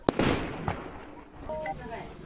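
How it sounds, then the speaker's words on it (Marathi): Firecrackers going off outdoors, a sharp near bang at the start followed by a few fainter pops and crackles, with a person talking briefly over them. "फटाक फटाके वाजते तिकडे बघ"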